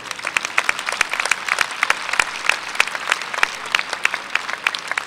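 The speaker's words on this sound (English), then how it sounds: "A round of applause to all of them as well." An audience at a university honors convocation ceremony gives a round of applause: steady, moderately loud clapping from many hands, with individual claps popping out of the crowd noise throughout.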